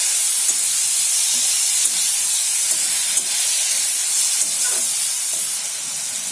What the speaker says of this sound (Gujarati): હવે આપણે આને બધીને સાંતળી નાખશું।